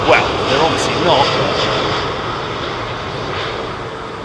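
A Boeing 767-400 jet airliner takes off at Heathrow, a broad steady engine roar close by that swells then eases as it climbs away, with someone talking over it.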